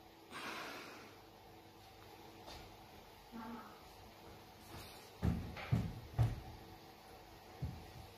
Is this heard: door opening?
yes